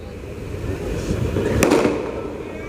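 Firecrackers go off outdoors during a public religious gathering: a single sharp crack bursts out over a rising wash of crowd and outdoor noise.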